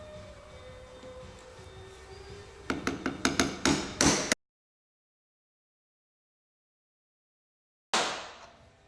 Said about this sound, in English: You can hear the tone in the bearing gets seated down, the tone changes.